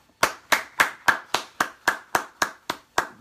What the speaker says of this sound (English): Big round of applause for Paloma